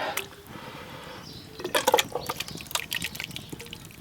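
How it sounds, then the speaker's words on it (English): Thick tomato sauce for lasagne glugs and splashes as it is poured from a cast-iron Dutch oven into a metal billy can over an open fire, in a short close burst after a quiet start. "So I've just got another billy can here I'm going to pour it into"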